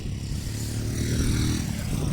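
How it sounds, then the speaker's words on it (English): A motorcycle passes by on a remote airstrip settlement, its engine a low, moderately distant drone that swells slightly toward the middle and end over faint background noise. "That's a motorcycle coming by,"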